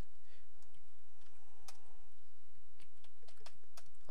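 Typing on a computer keyboard while entering FreeMat code, with soft, irregular key clicks in short bursts over a quiet background hum.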